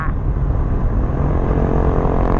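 A motorcycle rides on a road in Thailand, its engine a steady, loud drone that holds evenly throughout, heard from close by without a distinct pass.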